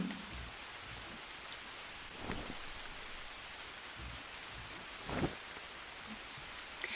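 Steady soft rain patters in the jungle survival game Green Hell, a faint continuous hiss broken by a few brief sharper ticks and clicks.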